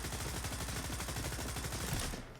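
AR416 assault rifle firing a sustained automatic burst in the video game Stalker 2, a rapid, even stream of loud close shots lasting a couple of seconds before cutting off.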